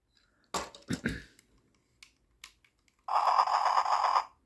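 A few clicks and clatters of handling a Transformers Energon Omega Supreme toy, then its electronic construction sound effect plays for about a second, buzzy and fairly loud.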